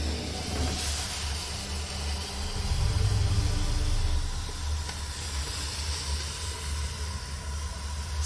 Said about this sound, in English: steam, not smoke.